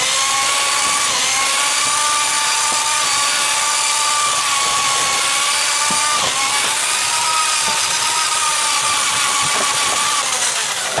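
Motorized drain snake feeding its cable through a clogged home drain, giving a constant loud motor whine with steady harmonic hum and faint scraping rattles throughout, no speech.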